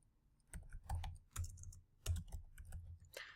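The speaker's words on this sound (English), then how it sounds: "I'm going to start typing some of these in." Quick bursts of keystrokes on a computer keyboard come in uneven clusters with short pauses between them, close and fairly quiet, with no voice.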